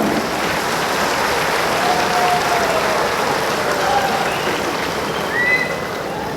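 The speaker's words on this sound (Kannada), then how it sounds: "ಸನ್ಮಾನ್ಯ ಮುಖ್ಯಮಂತ್ರಿಗಳ ನುಡಿಗಳಿಗಾಗಿ ಇದೀಗ ವೇದಿಕೆ ನಿಮ್ಮ ಜೋರಾದ ಚಪ್ಪಾಳೆಯ ಸ್ವಾಗತ" A large crowd applauds loudly to welcome Karnataka Chief Minister Siddaramaiah to the stage at a public gathering in Mangaluru, a dense continuous wash of clapping that stays steady throughout.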